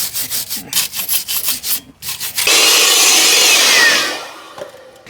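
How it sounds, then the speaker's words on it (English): Brake caliper on a 2010 Kia Sportage scrubbed with a brush: rhythmic close rasping strokes, then a longer steady hissing scrub that fades out. "First thing you want to do is scrub it down and clean up the caliper a little bit."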